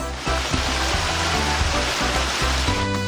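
Waterfall at Sohoton, a dense steady roar of rushing water, loud and close, with faint low thumps beneath and no talking.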